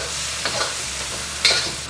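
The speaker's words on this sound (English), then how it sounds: "Give that a quick stir." Soft scraping of a utensil stirring sauce with sugar in a pan over a steady sizzle, with a couple of brief clinks, close and fairly quiet.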